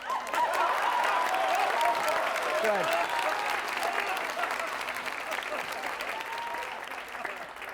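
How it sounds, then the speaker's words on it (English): Dense studio audience applause and some cheering at a live TV special swell up loudly and hold, slowly fading, with a brief voice speaking over the crowd. "burst into spontaneous applause or laughter."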